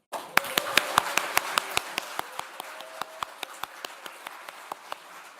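Lecture audience applauds, heard as a steady run of distinct sharp claps, loud at first and thinning slightly as it goes, with no talking over it.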